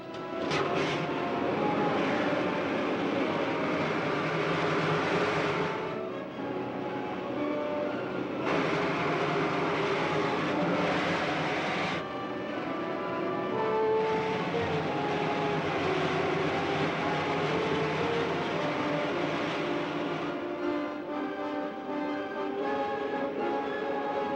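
Rocket ship main jets firing in a 1952 science-fiction serial, a loud continuous roaring rumble that swells and shifts in texture over about twenty seconds, heard alone without talk.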